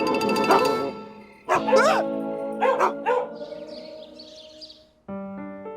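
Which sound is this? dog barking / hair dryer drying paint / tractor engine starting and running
dog barking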